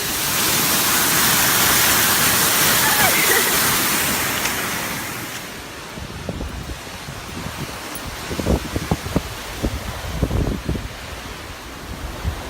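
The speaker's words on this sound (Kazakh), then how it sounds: "Артында сарқырама." A waterfall in the Turgen mountains roars as a broad steady rush for several seconds, then fades to a softer distant wash under scattered footsteps and rustling.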